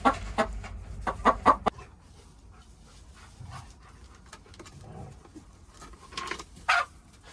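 A hen clucks in a chicken coop, with a burst of short, close clucks at the start, then quieter scattered clucks and rustling, and a few more clucks near the end.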